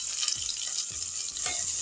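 Chopped onion drops into hot oil in a pan already holding cinnamon, peppercorns, cloves, crushed ginger-garlic and curry leaves, giving a steady close sizzle with a few soft stirring knocks and no voices.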